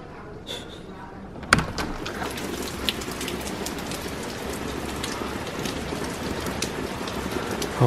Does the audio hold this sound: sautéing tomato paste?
no